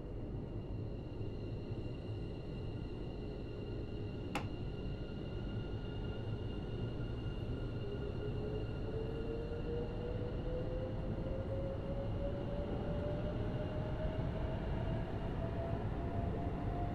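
A London Overground Suffragette line train runs in the game Train Sim World 4, with a steady low rumble of traction and wheels and a motor whine slowly rising in pitch as it accelerates, plus a brief click.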